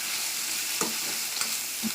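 Onions with mint, coriander and curry leaves stirred in a hot pan, a continuous sizzle broken by a few scraping spoon strokes and light clinks, close, no voices.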